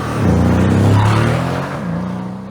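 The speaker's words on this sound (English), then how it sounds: "The valves are open at the moment and the sound does come through very nicely." Mercedes C63 AMG W205 V8 with exhaust valves open, a loud, close rev that swells and then eases, with a deep burbling exhaust note heard alone.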